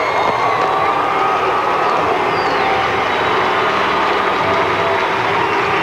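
A packed arena crowd roars and cheers loudly and steadily after a goal at a 1986 MISL indoor soccer game between the Minnesota Strikers and the Dallas Sidekicks, forming a dense, sustained wall of noise.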